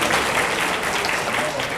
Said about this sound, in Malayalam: അതിനൊരു സ്പെഷ്യൽ കയ്യടി കൊടുക്കണം.